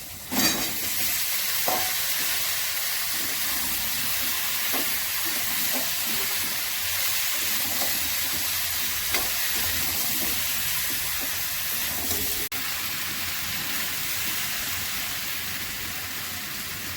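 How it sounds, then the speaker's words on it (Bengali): Pumpkin and pointed gourd sautéed together in a pan with cumin powder, a steady close sizzle and hiss with regular spatula scrapes and taps throughout, no voices. "এবার আমি কুমড়ো নিয়েছি আর পটল এগুলো দিয়ে দিচ্ছি, একসঙ্গে কষিয়ে দেবো।"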